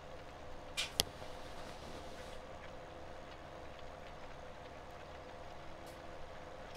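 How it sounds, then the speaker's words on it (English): A tractor in Farming Simulator 17 idles down while cultivating up a steep hill. A steady, low engine drone runs throughout, faint and even, with a couple of brief sharp clicks near the start. "You know that hill is steep when you hear the tractor basically idle down, and it's still cultivating at 7 miles an hour."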